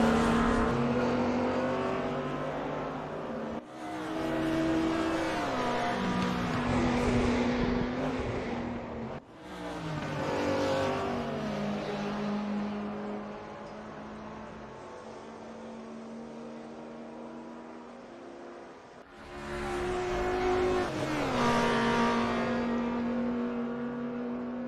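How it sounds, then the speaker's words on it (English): 1992 DTM race cars in RaceRoom rev hard before the start, with engines climbing and dropping through long, loud, rising and falling blasts separated by brief gaps. "Drivers getting a bit of a blast out of their cars before they go into the race"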